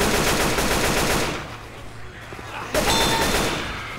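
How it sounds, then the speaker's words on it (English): Rapid automatic gunfire rattles loudly in the Left 4 Dead 2 video game, a dense burst that fades into a short lull before another loud volley erupts near the end. "Can we not shoot each other?"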